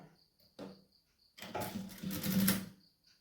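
Sewing machine stitching a garment's back neck finish after sitting unused for a few days, a short burst at first, then a longer loud running stretch of rapid stitching close by, with no talking.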